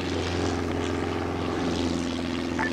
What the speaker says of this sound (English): Do not get on the helicopter, it's just reinserts.